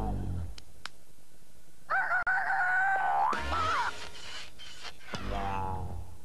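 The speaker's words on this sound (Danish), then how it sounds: "Kellogg's Cornflakes præsenterer Cornelius Hanegal" A rooster crows loudly in a Kellogg's Cornflakes television advert from a Danish TV2 commercial break around 1993, one long drawn-out crow set among other brief sounds.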